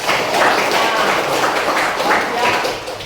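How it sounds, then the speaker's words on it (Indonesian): Students applauding a classmate in a classroom after a lesson on network topologies, a steady patter of hand claps at close range with voices chattering underneath. "tepuk tangan untuk kamu"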